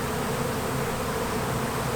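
A honey bee swarm buzzes steadily and densely throughout, a close, continuous hum without pauses or voices.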